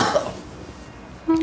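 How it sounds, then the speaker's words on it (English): A person with a rough cough gives a short hoarse cough right at the start, close and fairly loud, then the sound trails off into quiet. "I just got a bit of a rough cough out of the last couple."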